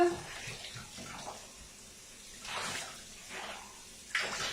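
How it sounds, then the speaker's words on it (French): Water runs over a glass as it is rinsed after scrubbing with a sponge and a solid multi-purpose degreaser, a steady splashing flow with swelling surges, close and alone. "On rince."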